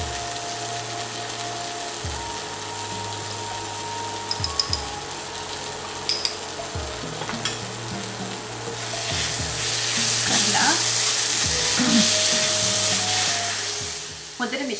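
Chili and turmeric powder fry in hot oil while a Goan-style fish curry with cashews is being cooked. A steady sizzle is punctuated by scraping and clattering from stirring, then a louder, hissing fry swells toward the end.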